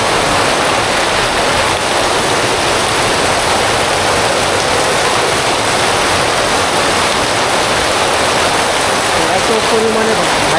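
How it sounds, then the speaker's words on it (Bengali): Torrential monsoon rain falls heavily, heard from a veranda as a dense, steady, loud roar of downpour that stays constant throughout. "দেখুন একবারে মুষলধারে বৃষ্টি হচ্ছে।"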